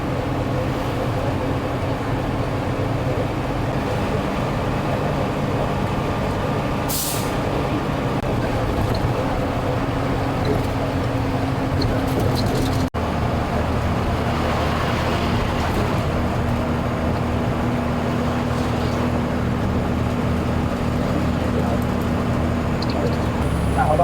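A TATA truck drives on the road while travelling toward Nagpur, its engine drone and road rumble steady and loud from inside the cab, with traffic noise around and a brief sharp knock partway through.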